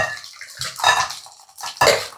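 Kerala sambar being poured from a pot into a bowl: short wet splashes and liquid glugs come in a few bursts, with clinks of utensil against vessel close by.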